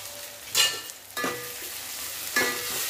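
Drumsticks and fenugreek leaves sauté in a hot tempering in a pan, with three short bursts of sizzling and stirring scrapes separated by quieter gaps, close and clear.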